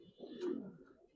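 One soft, brief coo from a pigeon at a Giribaz pigeon farm, faint and somewhat distant, alone with no talking.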